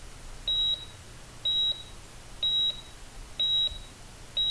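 Electronic beeps from the Surgeon Simulator video game, a steady high tone repeating about once per second, five short beeps in a row over a quiet background hum.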